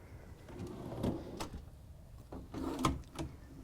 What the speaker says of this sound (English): You'll see these are dovetail construction drawers.